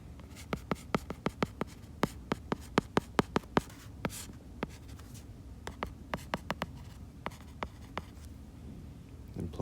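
Pen or pencil writing out a math definition by hand on paper, a series of sharp scratchy taps and strokes in quick irregular bursts, close and fairly quiet against a faint background.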